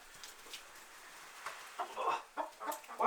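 Hens cluck softly inside an insulated chicken coop, faint at first and then a few louder, closer clucks and squawks near the end, with no talking.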